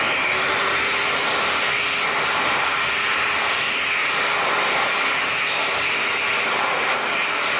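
An Excel Xlerator hand dryer blasts in a Rally's restroom in Penn Hills, giving a steady, loud, close rushing roar with a faint high whine that holds unchanged from start to finish.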